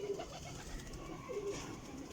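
A Sialkoti Chuha pigeon coos softly in a loft, with two short low calls separated by a pause against faint background noise.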